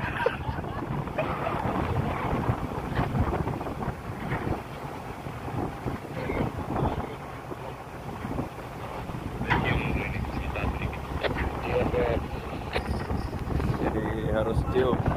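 Strong wind buffets the microphone aboard a ship at sea, a steady roaring rush with gusts swelling near the end, while people talk throughout.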